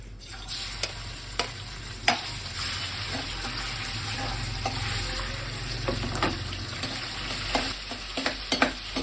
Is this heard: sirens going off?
no